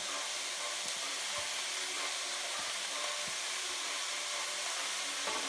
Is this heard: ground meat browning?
yes